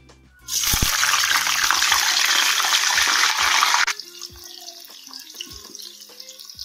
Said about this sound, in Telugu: ఫ్రెండ్స్, ఇప్పుడు కాకరకాయ ముక్కల్ని ఆయిల్లో వేసుకుందాం.